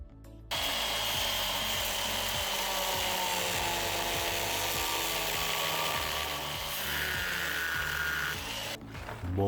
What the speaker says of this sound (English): After cutting the end using an angle grinder